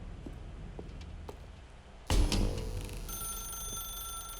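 A phone rings in The Stanley Parable video game, a sharp bell-like ring starting midway with sustained high ringing tones over a low background hum, no talking.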